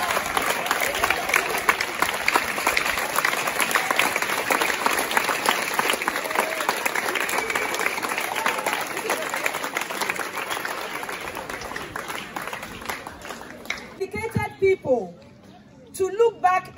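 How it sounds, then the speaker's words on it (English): Sustained, lively applause and crowd noise at the commissioning of a refurbished school block, continuing steadily for a long stretch before tapering off, with a voice speaking briefly near the end. "we should give them a better clap of praise to God"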